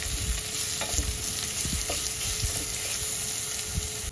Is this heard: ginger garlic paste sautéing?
yes